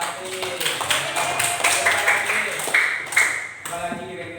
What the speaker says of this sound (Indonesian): Tepuk tangan untuk biasa arti.